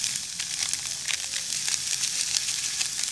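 Shredded beef browning in a frying pan with consommé, a continuous bright hiss of sizzling fat crackling steadily throughout, close and even with no pauses.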